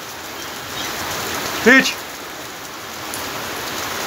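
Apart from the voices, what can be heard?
rain falling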